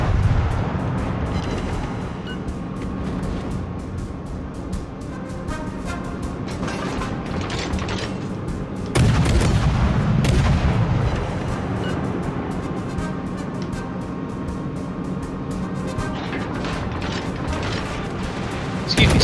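Naval gun salvos in World of Warships sound as a steady, dense rumble of ship engines and sea noise. Heavy booming blasts break through, with one loud salvo standing out about halfway through.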